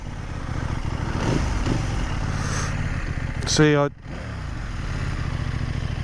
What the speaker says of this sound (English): that took a while for the revs to die down, and now they're dying down okay now